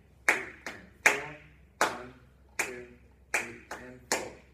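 Hands clapping a counted four-beat rhythm in a classroom, sharp close claps with quick pairs between evenly spaced beats, about eight claps with silence between them.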